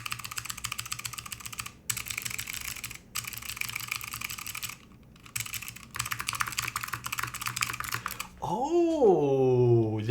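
Keystrokes on a Pavlov 65 keyboard build, including spacebar presses, form a dense run of close, crisp clacks broken by a few short pauses. A voice speaks briefly near the end.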